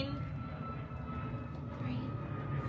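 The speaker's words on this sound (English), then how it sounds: "Hold for plane." An airplane passes overhead as a continuous low, broad rumbling roar that holds fairly steady throughout, with faint voices underneath.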